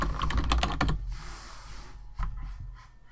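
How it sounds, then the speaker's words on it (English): Rapid typing on a computer keyboard at a desk, a quick burst of close clicking keystrokes followed by a pause and a couple of softer taps. "We'll type in last price and hit the search button."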